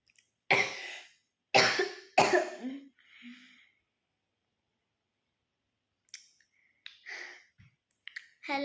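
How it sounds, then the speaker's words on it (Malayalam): An elderly woman with a bad cough and breathlessness coughs in several harsh bursts close by, followed by quieter throat sounds and short scattered noises after a pause. "അമ്മച്ചിക്ക് ഭയങ്കര ചുമയും ശ്വാസം മുട്ടല്"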